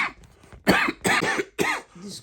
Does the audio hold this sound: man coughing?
yes